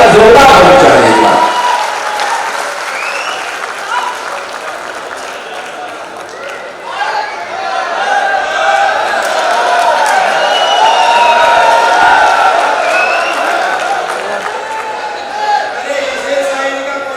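Audience applause and cheering at a Hindi hasya kavi sammelan comedy poetry show, a sustained crowd roar of clapping that swells and holds steady, with mixed voices through it.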